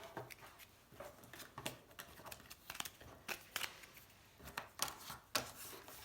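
Playing cards being gathered up from the table during a solo game of the board game Meadow: quick, close papery slaps, flicks and taps in irregular bursts, quiet and with no one talking.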